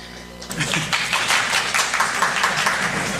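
Audience at a plenary session on nonviolent movement building clapping and cheering, a dense, steady wash of many hands with voices rising through it, sustained and fairly loud.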